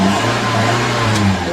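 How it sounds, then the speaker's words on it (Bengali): A Toyota Hiace van's engine runs steadily just after being started with the ignition key, giving a close, even, low hum with a slight rise in revs and no voices. "এই হচ্ছে ইঞ্জিন স্টার্ট।"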